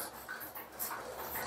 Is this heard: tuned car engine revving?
no